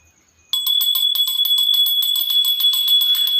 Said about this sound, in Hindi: देखिए हमने फिर से हमने घंटी बजाई है।